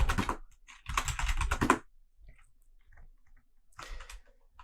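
Fast bursts of key presses on a computer keyboard while a password is entered at a terminal, a short flurry, a pause, then a longer run of clicks, ending with a few scattered taps, close and fairly quiet.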